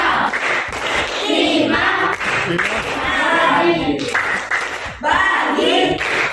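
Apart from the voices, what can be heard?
group clapping hands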